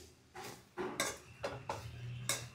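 A spoon stirs broccoli curry with coconut powder in a pan, giving about six distinct metallic scrapes and clinks in an uneven rhythm, close and fairly clear.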